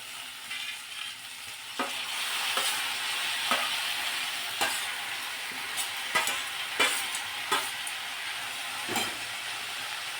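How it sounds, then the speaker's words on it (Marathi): Finely chopped safflower greens fry in a pan with a steady hissing sizzle. A spatula stirs them with repeated clacks and scrapes at uneven intervals, heard close with no talking. "आता ही बारीक चिरलेली करडीची भाजी जी आहे ती टाकून देऊ आपण यामध्ये"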